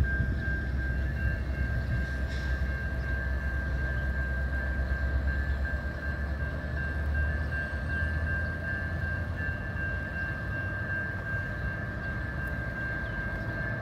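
A local train passes a road-gate railway crossing in Prospect Heights, giving a steady, loud, continuous rumble with a sustained high whine running through it and no voices.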